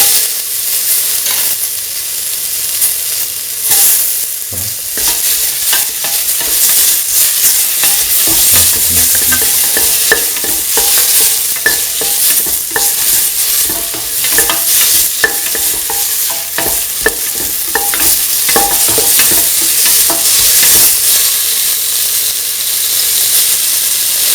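Tomato pieces hit a hot pan and are stirred while they sizzle, a steady bright frying hiss under repeated scraping and clicking of the spoon, close and continuous for the whole stretch with no talking.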